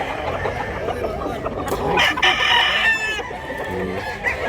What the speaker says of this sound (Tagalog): Ang dami pang manok dito mga idol.